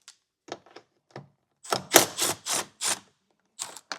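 Two 10mm bolts come off a Hyundai tail light, likely on a 2025 model. Close, short ratcheting and clicking bursts are heard, starting faint and sparse, then growing into several louder, grating pulses of about half a second each.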